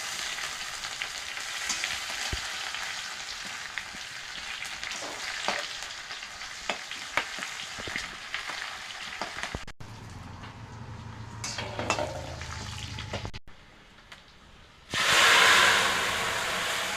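Onions and dried chillies sizzling in a hot pan while a utensil stirs and scrapes, steady frying hiss with clinks, then a loud fresh sizzle burst near the end.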